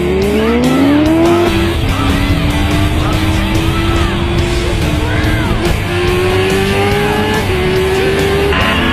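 High-revving sport motorcycle engines, including a Suzuki Hayabusa, scream continuously at full speed, loud and close, with rising pitch as they accelerate through gears.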